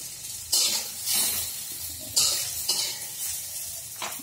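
Spinach fritters sizzling in hot oil in a pan, a steady close hiss with several sharp bursts of spattering and stirring scrapes, no voices.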